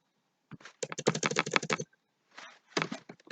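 Quick bursts of clacking keystrokes on a computer keyboard, close and crisp, with short pauses between flurries of typing.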